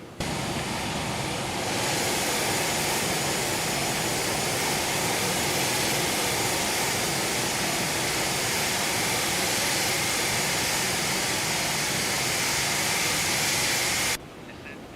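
Loud, steady jet engine roar from an Aerobask Phenom 300 business jet in the X-Plane 12 flight simulator, a constant dense rush that holds unbroken for about fourteen seconds before cutting off abruptly.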